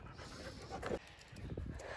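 Dog panting nearby, quick rhythmic breaths heard close and fairly faint, with some rustling and handling noise in the background.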